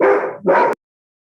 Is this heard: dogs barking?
yes